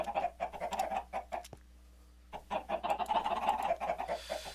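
Minecraft chickens cluck rapidly and constantly in a crowded automatic redstone chicken roaster, a busy chorus of game clucks with a brief lull in the middle.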